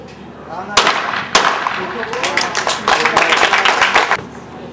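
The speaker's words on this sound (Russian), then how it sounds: "Стрельба за бронзу." Gunshots ring out in a bronze-medal shoot-off at the 2013 Universiade sport shooting competition: two loud sharp cracks, then a rapid scatter of smaller snapping reports, with faint voices in the background.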